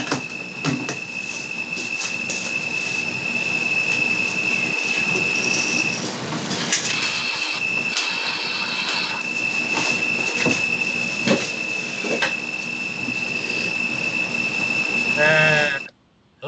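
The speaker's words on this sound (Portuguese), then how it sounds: "Sim, é um grilo." A cricket chirps indoors as a steady, high continuous trill that runs almost the whole time over a faint background hiss, cutting off near the end.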